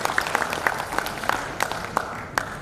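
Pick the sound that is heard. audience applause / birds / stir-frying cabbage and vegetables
audience applause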